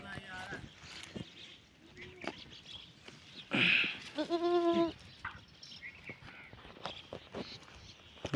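Goats on a farm bleat loudly nearby in two drawn-out calls, with people talking in the background and light rustling and footsteps around them.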